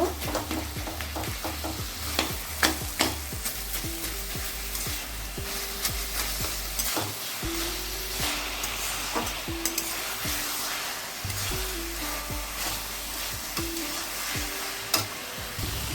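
A spatula scrapes and stirs a hilsa fish head with ash gourd steadily in a sizzling pan, with repeated clanks and scrapes over a constant frying hiss and no talking.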